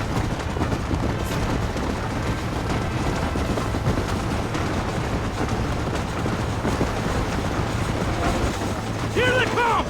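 A train running in the video game Red Dead Redemption, its steady mechanical rumble and rail clatter rolling continuously beneath game dialogue and background music throughout.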